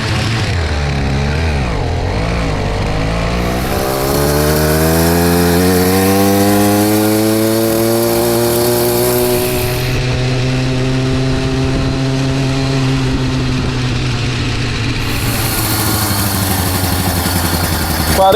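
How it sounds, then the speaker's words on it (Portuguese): A motorized bicycle with a 49cc engine and a 60-tooth rear sprocket screams through a speed test, its small two-stroke note loud and close as it climbs steadily in pitch, holding high revs throughout with no talk. "vamos começar a fazer um teste de velocidade aqui para nós ver quanto que vai dar com essa coroa de 60 dentes e esse motor de 49 cilindrada"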